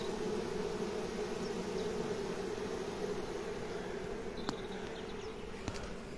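A honeybee swarm moves into a baited hive outdoors, producing a dense, steady hum of many wings that holds constant throughout, with a couple of faint, brief clicks near the end and no voices.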